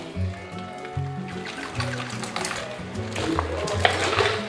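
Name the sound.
cold water poured into milkshake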